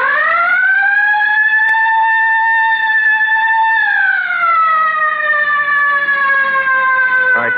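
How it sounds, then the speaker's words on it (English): A police car siren in a vintage radio crime drama sounds as a loud, continuous wail that holds steady and then glides lower in pitch, heard on its own without voices. "All right, hit the siren."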